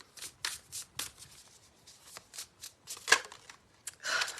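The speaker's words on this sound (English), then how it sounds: "Either that or I'm like forcefully shuffling." Playing cards are shuffled forcefully in a rapid series of crisp riffling bursts, about a dozen evenly spaced snaps, close and distinct, ending in a longer ruffle.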